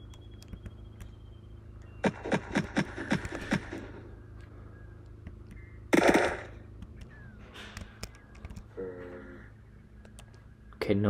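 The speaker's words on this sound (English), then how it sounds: "Okay, no one's attracted to the gunshots." Rapid gunfire rings out in the survival game Unturned, a quick volley of shots followed by a single louder blast and scattered game noises over a steady low hum.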